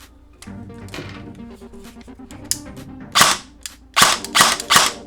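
Repaired airsoft gun firing single shots on semi-auto after a selector fault, beginning with soft mechanical clicks and handling noise, then about five sharp loud cracks spaced unevenly near the end.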